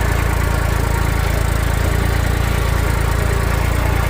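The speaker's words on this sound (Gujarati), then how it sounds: "આ ટ્રેક્ટરનો અવાજ છે." An Eicher 380 Super Power tractor engine runs steadily while pulling a rotavator through a field, a loud, dense, unbroken diesel drone with constant low rumble and vibration, close up and without speech.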